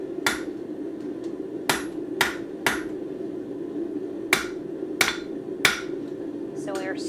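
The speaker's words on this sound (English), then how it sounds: "we're kind of trying to hammer those back" A hammer strikes the bent corners of a metal spoon blank to flatten them back into shape, giving seven or eight sharp, ringing, close blows at uneven intervals over a steady low hum.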